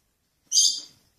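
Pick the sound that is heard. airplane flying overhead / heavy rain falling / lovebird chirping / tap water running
lovebird chirping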